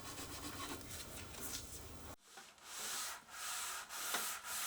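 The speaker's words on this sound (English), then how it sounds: "I finished everything off with a hand sand." Hand sanding of a wooden drop leaf tabletop during restoration: continuous rhythmic rubbing strokes of sandpaper on wood, close and clear, with a short pause midway before steady back-and-forth strokes resume.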